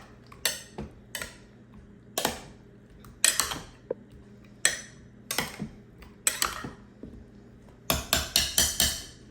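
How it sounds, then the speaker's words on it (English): A spoon stirs grape jelly into meatballs in a slow cooker, giving about a dozen sharp, close clinks and scrapes against the crock in uneven bursts, ending in a quick flurry of taps; no one speaks. "And then I'll just give it a little stir."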